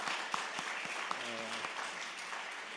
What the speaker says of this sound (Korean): 그러면 박수 좀 한번 크게 한번 쳐볼까요, 여러분?